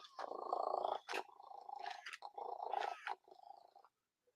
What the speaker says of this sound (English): You can hear it purring.